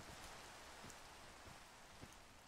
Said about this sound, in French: Super, on arrive, il pleut.